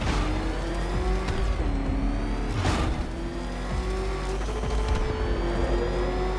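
The Batmobile in Batman: Arkham Knight roars as it accelerates with its afterburner's failsafe disabled, a loud, close engine whine climbing and shifting in pitch with gear-like steps over a rushing, gritty roar.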